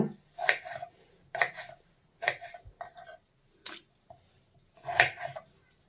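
A knife chops through washed potatoes on a board in five or six crisp, evenly spaced strikes, close and clear with quiet gaps between cuts.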